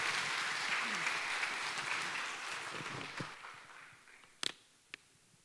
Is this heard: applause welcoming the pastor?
yes